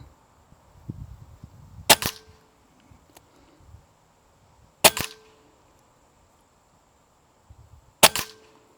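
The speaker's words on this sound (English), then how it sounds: "That was 10 shots." Air rifle firing H&N pellets at bench rest targets 75 feet downrange: three sharp, loud cracks spaced about three seconds apart, with quiet handling noise between them.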